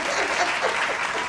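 Brief burst of steady group clapping for Dr. Elizabeth Blackwell, continuous and fairly loud throughout the short moment.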